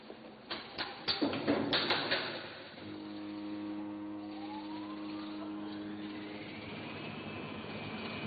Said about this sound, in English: You can start up the generator now.